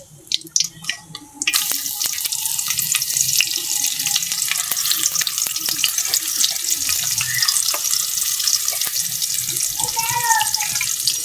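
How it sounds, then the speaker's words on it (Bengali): Chopped onion and garlic hitting hot oil already spiced with cardamom, cloves and peppercorns, bursting into a loud, steady sizzle after a brief quiet start, with crackling spatters throughout. "এখন আমি পেঁয়াজ কুচি রসুন কুচি দিয়ে দিলাম"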